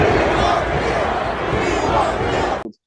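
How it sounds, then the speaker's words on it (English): A Chicago Bears football crowd roars in a stadium, a dense wall of many voices chanting and shouting together at high volume before cutting off abruptly. "I know the whole crowd was chanting, we want Fields."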